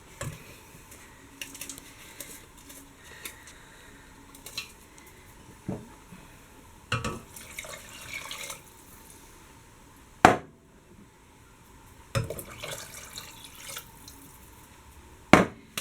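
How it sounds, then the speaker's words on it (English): Measured water poured into a pot of spicy red lentil and tomato soup, heard as intermittent splashes and drips with sharp clanks of utensils and pan knocks spaced through a quiet kitchen. "add our 36 fluid ounce of water that we've measured out"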